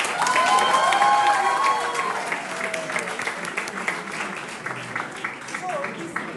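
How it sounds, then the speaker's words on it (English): Conference audience at an opening ceremony breaking into applause, a burst of many hands clapping that fades over a few seconds as a voice speaks over it. "Can you clap?"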